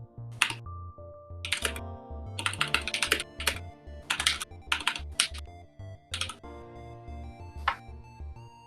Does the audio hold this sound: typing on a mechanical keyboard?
yes